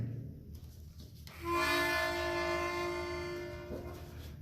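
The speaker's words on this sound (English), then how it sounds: "stare at the disappearing train" A train rolls past with a loud, sustained horn chord that swells in and then slowly fades as it moves away, over a steady low rumble of the cars.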